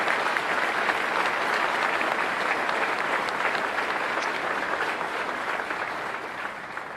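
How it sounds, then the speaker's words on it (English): Audience applause during the 2017 Milwaukee State of the City address, a steady dense clapping from a large crowd that stays loud throughout and fades slightly at the end. "Let's give them a round of applause."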